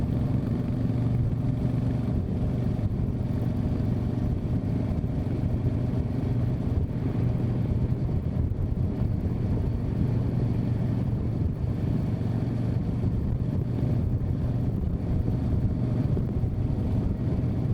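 A Super Meteor motorcycle engine runs steadily while being ridden, giving a constant low rumbling drone with wind and road noise. The level holds fairly even throughout, with no speech.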